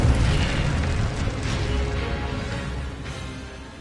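Spell blasts and magical bursts in the Hogwarts Legacy video game, including an Incendio fire spell, roll out as loud, dense booming rumbles that sustain with no clear gaps, and no voices are heard over them.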